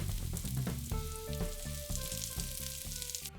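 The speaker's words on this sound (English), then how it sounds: "I'm adding our diced red onions to our hot oiled pan." Diced red onions and tempeh crumble fry in a hot oiled pan, giving a steady close sizzle with light stirring scrapes and no talking.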